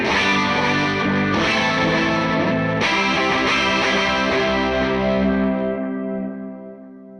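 Electric guitar through a Meris LVX modulation pedal with heavy effects stacked on: a dense, distorted wash with warbling chorus and echo, sustained chords swelling and blurring together before fading. Loud and alone, with no talk.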